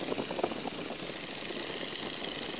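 A 1942 Boeing Stearman biplane's radial engine throttled back to about 1500 RPM in flight, giving a steady, continuous drone with a fine rumbling flutter and no talk.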